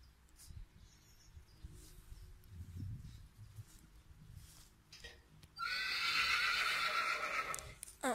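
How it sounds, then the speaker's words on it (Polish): A horse gives a loud, drawn-out whinny in a stable at a dressage Grand Prix competition in Germany, after quieter rustling and faint stable sounds. "stamtąd to rżenie"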